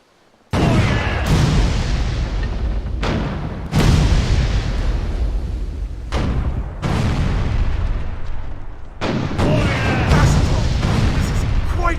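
Cannon fire in the naval video game Furious Seas: a series of loud, close booms, each sharp blast trailing into rumbling noise, firing in an uneven sequence with a voice heard among them.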